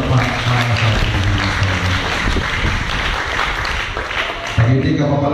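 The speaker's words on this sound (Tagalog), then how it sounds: "Isang malakas at matulog na palakpak para sa Panginoon." A Filipino congregation at a Holy Supper service breaks into loud sustained applause for the Lord, dense clapping throughout with a voice speaking over it at the start and end.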